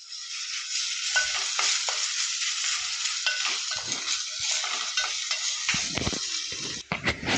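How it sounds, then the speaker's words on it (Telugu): Ginger-garlic paste frying in a pan, a loud continuous hissing sizzle close by, with intermittent stirring scrapes and knocks, growing busier toward the end. "తర్వాత అల్లం వెల్లి పేస్ట్ వేసుకోవాలి ఇది కొద్దిగా పచ్చివాసన పోయేదాకా వేపుకోవాలి"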